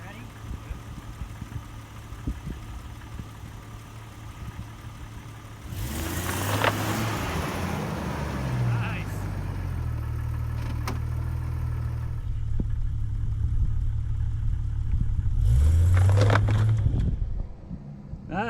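A vehicle's engine pulling in four-wheel drive during a recovery in the New Mexico high desert, starting quietly, then a steady mid engine drone that swells into a loud revving push near the end, with some talk early on.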